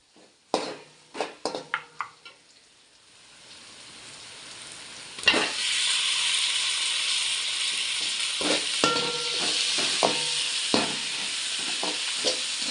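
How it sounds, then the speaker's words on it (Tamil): Three tomatoes drop into a pan of mutton with a few clattering knocks, then a loud, steady frying sizzle takes over as a spoon stirs and scrapes against the pan. "மூணு தக்காளியும் போட்டாச்சு. நல்லா கிண்டுறோம்."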